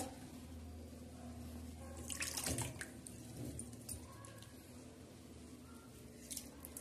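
Quiet splashing and swishing of water as fresh coriander is rinsed in a basin, with a brief louder slosh near the middle.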